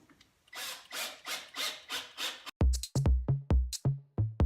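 Ratchet tightening bolts on a Skyline GTR valve cover: a run of steady rasping clicks, then sharper, louder ratcheting strokes in quick succession, close up with no talk.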